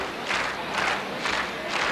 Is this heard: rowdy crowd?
yes